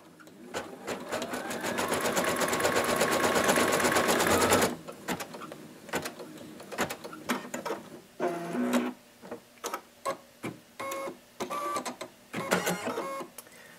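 An embroidery machine stitches its first thread color with a fast, loud, continuous mechanical whir that stops abruptly. A series of short clicks and clacks follows as the machine cuts the thread and repositions.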